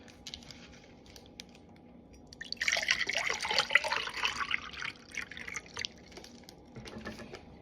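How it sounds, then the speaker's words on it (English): Water poured into a glass, a bright splashing trickle lasting a few seconds at moderate loudness, with faint clicks before and after. "I'm just gonna serve myself some water"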